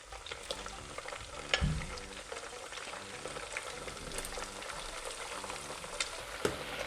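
Spicy chilli chicken (laziji) sizzles steadily in a hot pan, with occasional stirring scrapes and clicks over a soft, continuous frying hiss.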